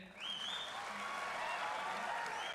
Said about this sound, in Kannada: ದಯವಿಟ್ಟು ಒಮ್ಮೆ ಚಪ್ಪಾಳೆ ಹೊಡೀರಿ